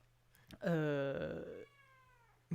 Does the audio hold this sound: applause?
no